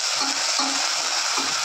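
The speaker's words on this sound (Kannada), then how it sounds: "ಎಣ್ಣೆ ಚೆನ್ನಾಗಿ ಬಿಸಿಯಾಗಿದೆ, ಸಾಸಿವೆ ಹಾಕ್ಕೊಳ್ಳೋಣ." Mustard seeds, onion and garlic fry in hot oil for a home-cooked amaranth-leaf saaru, a bright steady sizzle close by with a few soft stirring scrapes and no voices.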